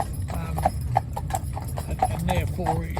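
Harness horses walking along a road, a steady rhythmic clip-clop of hooves close by, with someone talking continuously over the hoofbeats.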